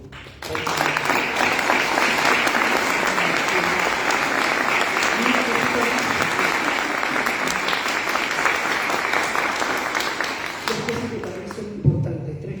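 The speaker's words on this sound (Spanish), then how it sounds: "yo les pido que un aplauso enorme" Sustained, loud crowd applause at a book presentation with dense clapping that carries on steadily for about ten seconds before tapering off, with a brief sharp sound near the end.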